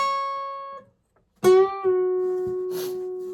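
Electric guitar playing the opening section of a solo slowly, a sustained note fading to a brief silence, then a sharp bend-like attack held as a long ringing tone.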